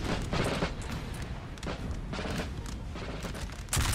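Dense crackling musket volleys from French and English line infantry in a Napoleon Total War battle, a continuous rolling fusillade with scattered shots rising and falling, fairly loud throughout with a fresh burst near the end.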